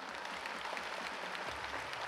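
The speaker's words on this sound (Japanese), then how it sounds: "大きな拍手お願いいたします。" An audience claps at an indoor fan festival event: a short, continuous patter of applause from a crowd, fairly faint and even.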